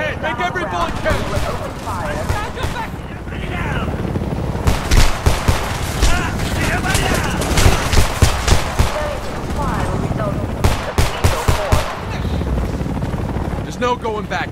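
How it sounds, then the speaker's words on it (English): Dense gunfire from the Homefront video game, with repeated automatic bursts and single shots over a constant battle din and a helicopter-like roar, while voices shout orders throughout. "Start shooting! Two of them! Coming over the fence! Aim for the head! Make every bullet count!"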